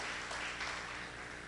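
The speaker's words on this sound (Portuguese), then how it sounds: "Queria que você recebesse essas palmas como um gostoso abraço de toda a igreja" A church congregation gives sustained applause to welcome a first-time visitor, a dense even wash of clapping throughout at moderate distance.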